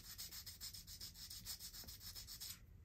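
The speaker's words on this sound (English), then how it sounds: "with the sandpaper." Sandpaper rubbed back and forth along the top edge of a hunting slingshot clip, a close, faint, rhythmic scratching of about a dozen strokes that then stops.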